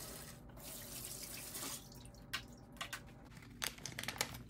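Water runs steadily from a tap or hose into a tank, measured at 7.5 gallons, for mixing 150 pounds of clay into slip. It is a continuous close splashing rush with a few brief sharper splashes near the end.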